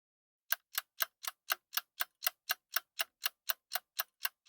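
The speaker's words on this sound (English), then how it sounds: "Time is ticking." A clock ticks a countdown in a steady, even rhythm of about sixteen crisp ticks after a brief silence, close and isolated against a silent background.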